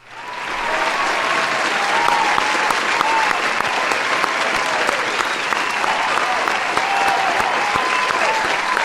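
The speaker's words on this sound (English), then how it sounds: "Oh, round of applause." Sustained applause from a crowd, dense clapping that swells in quickly and stays loud and steady throughout.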